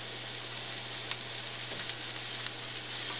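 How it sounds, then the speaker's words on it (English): Onions frying in a pan over a medium flame: a steady, even hiss and crackle of sizzling, with a constant low hum beneath and occasional faint stirring clicks. "Cook the onions on a medium flame and don't let it burn."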